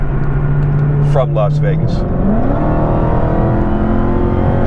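A powerful car, a Dodge Demon rated at 840 horsepower, rumbles steadily with a rising rev partway through, running continuously under someone talking.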